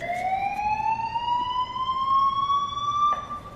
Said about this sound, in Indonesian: tiba-tiba ada security alarm yang berbunyi dari sebuah toko di belakang mereka